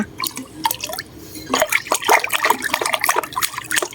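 Water poured into a container along with milk hormone, a close splashing and dripping stream with bubbly, irregular liquid sounds throughout.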